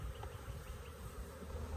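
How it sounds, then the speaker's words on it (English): Honeybees buzz around the lid of a hive set up from a swarm trap, a brief close, steady drone of many wings with no talking. "there's a lot of bees on the lid out here."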